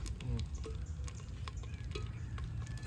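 Cumin seeds and dried red chillies sizzle in oil in a clay pot as a tempering for mutton curry, with a continuous close crackle and light stirring throughout.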